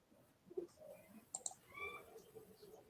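A few scattered computer mouse clicks on an on-screen comment during an online interview, faint and sharp against a quiet room hum.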